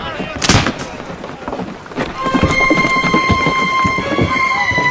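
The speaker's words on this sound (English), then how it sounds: "Return fire, Mr. Buckland!" Cannon fire from a warship's guns in a naval period drama: two heavy booming blasts stand out, then a sustained roar of battle noise with ringing tones continues loudly to the end.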